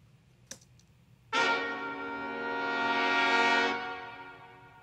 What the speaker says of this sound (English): just a nice brass swell